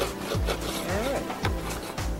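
A chisel scrapes old sealant from around a boat portlight during resealing, giving steady close rubbing and scraping strokes with a few sharp, repeated scrapes over a constant background hum.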